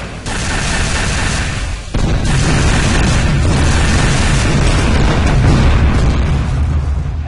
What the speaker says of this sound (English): it'll play the explosion sound